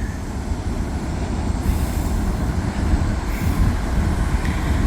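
A CPKC heritage unit locomotive leading a freight train approaches, a steady low rumble with rising wheel and engine noise from a distance, no voices.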